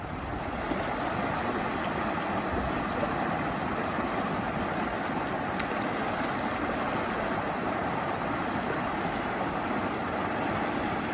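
The Frio River at Garner State Park rushes and burbles in a steady, broadband wash of flowing water that stays constant and fairly close throughout, with nothing else over it.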